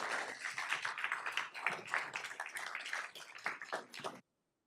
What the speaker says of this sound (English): One more round of applause for Jamie.